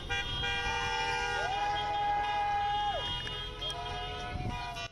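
Parade of cars circling at a drive-thru high school graduation ceremony in Camarillo, with long car horn toots sounding over steady traffic noise and a faint crowd in the background.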